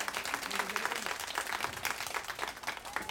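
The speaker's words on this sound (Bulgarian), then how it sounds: "Моля вашите аплодисменти за нея." Parents at a children's day event in a nursery applaud the nursery director, a brisk round of clapping from a modest indoor crowd with some chatter beneath it.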